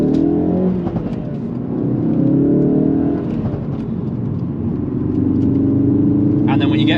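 A Ford Focus RS MK3 engine hums and revs under load, a steady low drone rising in pitch then settling, heard from inside the car with someone talking over it.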